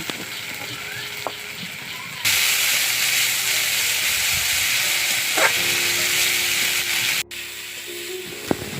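Oil sizzles in a pan while shol fish masala cooks, a steady frying hiss that jumps louder after more oil goes in and continues alone with a few faint clinks.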